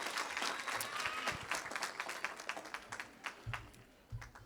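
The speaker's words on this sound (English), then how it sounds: "Can you give them a big round of applause?" An audience at a ceremony claps for parents and guardians, a burst of applause that gradually thins into scattered individual claps with faint murmuring underneath.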